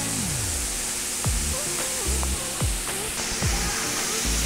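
Water flowing in a forest stream at Nityapuja Kona in the Lankamalla forest, a steady close hiss of running water throughout, with a few sharp chirping calls cutting through.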